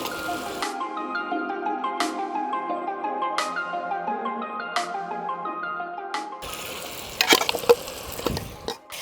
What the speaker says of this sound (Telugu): ఇప్పుడు మనం చక్కగా ఆల్రెడీ ఫ్రై చేసుకున్న ముక్కల్ని ఇందులో వేసేయడమేనండి